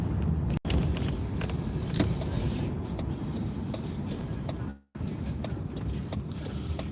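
A car called Graybird cruising on the road during errands: a steady, close rumble of road and engine noise, broken by two brief dropouts.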